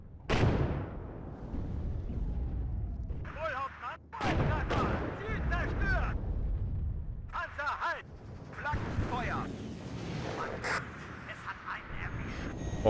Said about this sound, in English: I do think that the Leopards, they sound really awesome when they fire. Proper meaty guns.